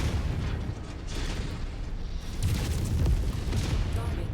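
Explosions of a destroyed target in the MechWarrior 5 video game, a sustained low rumbling boom that swells louder partway through, with indistinct voice-like sounds in the mix.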